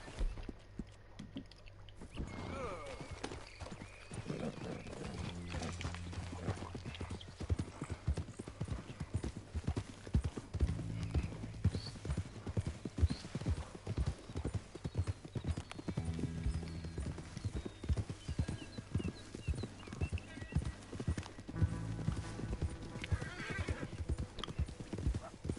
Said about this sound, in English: If I can get on my freaking horse.